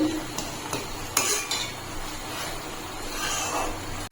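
Mihidana simmering in sugar syrup in a pan, a steady bubbling sizzle with a few metallic clinks of a utensil early on, continuous and close.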